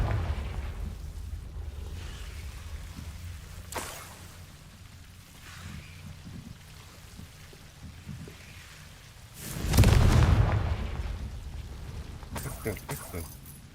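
A fiery Confringo spell blast in the video game Hogwarts Legacy erupts as one short, loud, booming burst near the end, standing out over a steady low rumble of game ambience.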